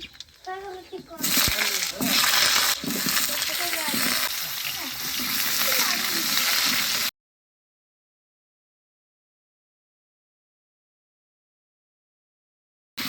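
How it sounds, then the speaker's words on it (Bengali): Black cumin and dried red chillies tempering in hot oil in a wok, a loud steady sizzle and crackle for several seconds with a person talking over it, then sudden silence. "কড়াইতে আবার একটু তেল দিয়ে দিচ্ছি। দিয়ে দিচ্ছি ফোড়নের জন্য কালো জিরে, আর দিয়ে দিচ্ছি শুকনো লঙ্কা"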